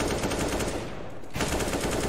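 Rapid automatic gunfire from a professional Counter-Strike: Global Offensive match in the ESL Pro League, FURIA vs Liquid, loud and continuous with dense bursts that briefly thin out midway before resuming.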